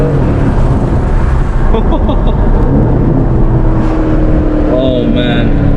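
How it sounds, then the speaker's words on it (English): A deep Aston Martin DB11 V8 (2018) engine rumbles and revs close by, a throaty exhaust note rising and falling, with a few short electronic beeps partway through. "listen to this AMG engine"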